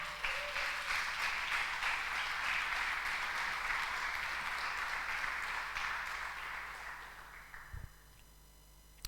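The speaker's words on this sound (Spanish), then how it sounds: "Dale un aplauso al Señor" A church congregation applauds during a sermon, a broad wash of clapping that holds steady for several seconds, then thins and fades out, leaving quiet room tone.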